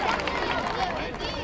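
A crowd claps warmly and steadily at an award ceremony for a youth football tournament in Drobeta-Turnu Severin, a dense, continuous wash of applause from start to finish.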